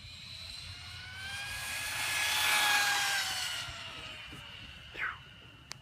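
A Dromida RC desert truck's small engine gives a high, buzzing whine that swells and fades as the truck passes by outdoors, ending with a brief sharp chirp.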